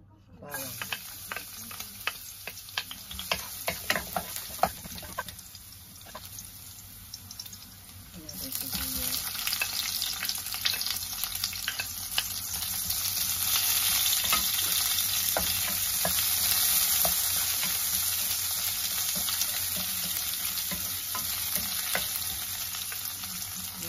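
Bitter melon and tofu are sautéed in a pan, sizzling and frying close by with scraping stir strokes; the sizzle swells louder and steadier midway and holds, with a voice briefly heard.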